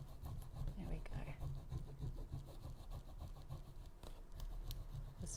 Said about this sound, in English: Just keep rubbing until it's all there.